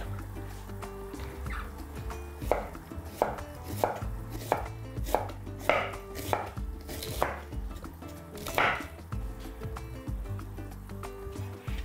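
A knife thinly slices cabbage for borscht, giving a run of crisp, uneven chops that land about once a second over a steady low background hum.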